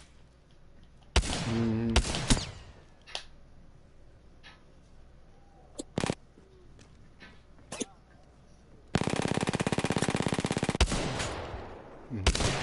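Gunfire in the video game Apex Legends: scattered single shots and short bursts, then a long loud rapid automatic volley, heard up close with brief murmurs from a player between them.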